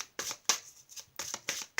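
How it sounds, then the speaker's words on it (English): Tarot cards shuffled by hand in quick bursts, crisp riffling flutters repeating several times close up with brief pauses between. "I'm going to shuffle the cards and I'm going to lay them out"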